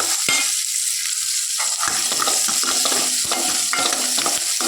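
Onions sizzle in an oiled pan for kadamba sambar, a bright, constant frying hiss broken by repeated spatula scrapes and stirring clatter, with no talking.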